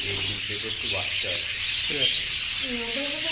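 Small cage birds, budgerigars and finches, chirp and twitter continuously, a dense bright chatter of many birds close by, with a few louder individual calls.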